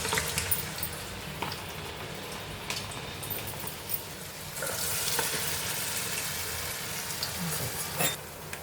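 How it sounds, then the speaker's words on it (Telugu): Pressed snack dough pieces drop into hot oil and fry with a steady bubbling hiss, close by and continuous, with a few soft knocks and a brief surge of sizzling midway. "ఇప్పుడు నూనె వేడెక్కిందండి, మీద ఒత్తుకున్నవి అందులో వేసేద్దాము."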